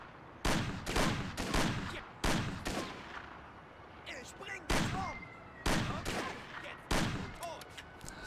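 Bursts of rapid gunfire crack loudly at intervals in the game Mafia, each volley followed by ringing echoes and scattered smaller shots, like an action game firefight.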